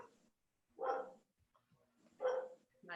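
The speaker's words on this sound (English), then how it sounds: "My dog's barking." A dog barking indoors, two loud separate barks about a second and a half apart, with a third starting at the end, close to the mic between quiet gaps.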